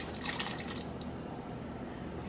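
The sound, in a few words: filling a cooking pot with water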